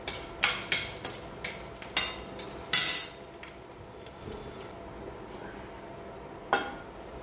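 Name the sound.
dry-roasting masala spices with garlic in a pan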